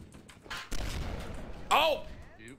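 A blunderbuss fires in the video game Cursed Halo, a booming shot followed by rumbling gunfire noise. A voice talks loudly over the action throughout.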